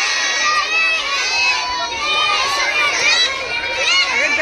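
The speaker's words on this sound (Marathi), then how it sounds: "मग कशाला ओरडताय?" A classroom of children shouts loudly together during a Holi colour-mixing activity, many high excited voices overlapping in continuous waves of noise.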